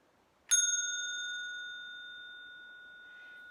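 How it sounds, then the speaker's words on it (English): A small antique bell is struck once, ringing out clear and bright, then sustaining a long, slowly fading tone with no other sound around it. "I have this cute little antique bell."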